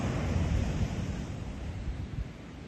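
Sea waves break on a beach with a continuous rumbling roar, mixed with gusty wind buffeting the microphone. It is loud and close, with no voices.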